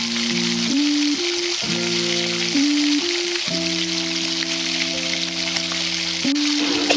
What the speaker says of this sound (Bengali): ঠিক একই প্রসেসে আমি বাকি বড়াগুলো ভেজে নিয়েছি।